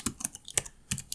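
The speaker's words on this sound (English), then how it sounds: "So let's type this thing in real quick." Fingers type on a tiny computer keyboard in a quick burst of about a dozen sharp, close clicks with uneven spacing, and no voices.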